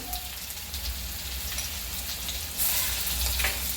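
Ground green chili sizzles in hot ghee in a pan, a soft continuous crackling hiss that swells louder near the end, fairly quiet and close.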